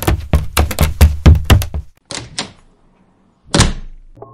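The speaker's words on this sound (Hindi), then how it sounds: "दरवाज़ा पीछे से झट से बंद कर दिया" Door slammed shut from behind in a house, a burst of heavy thuds and knocks followed by a few more bangs, loud and close, with no voices.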